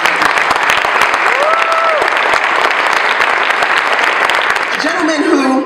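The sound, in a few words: audience applause at luncheon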